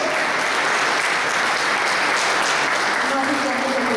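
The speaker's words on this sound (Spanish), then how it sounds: "Quiero pedirles un caluroso aplauso" An audience applauds continuously, dense clapping at a steady, fairly loud level throughout.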